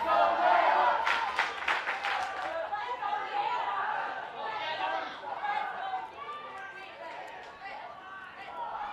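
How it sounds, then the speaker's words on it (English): The Jayhawks crowd at a 2A girls soccer semifinal makes a loud, blended roar of cheering and chatter from the stands, with a few sharp shouts early on, then holds at a steady buzz throughout. "Jayhawks crowd now getting into it."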